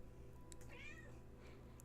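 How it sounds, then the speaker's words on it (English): A domestic cat meows indoors, two short faint meows with a longer rising one between them, quiet and alone over low background hum. "You're just meowing at me?"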